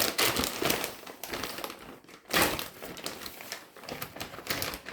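Pork loin being placed into a plastic vacuum-sealing bag, heard as close crinkling and rustling of plastic in irregular bursts with a brief pause midway.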